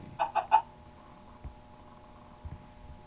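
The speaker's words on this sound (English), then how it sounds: "A green chicken." A chicken in Minecraft gives three quick, close clucks in a row at the start, followed by near silence with a couple of faint low thumps.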